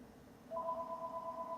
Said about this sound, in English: That phone's ringing and it's very annoying